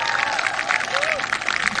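A golf gallery applauding a tee shot at the BMW Ladies Championship LPGA event, a brief burst of steady clapping and crowd murmur heard at moderate distance under a commentator's voice.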